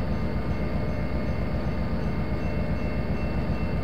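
A locomotive backing up toward its train cars in the Trainz railway simulator game, a steady, dense rumble of engine and rolling rail noise throughout with no pauses.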